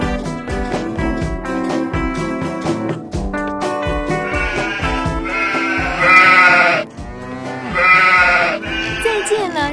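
A cartoon lamb bleats over a musical score, its wavering cries rising clearly a couple of times toward the end, loud and close.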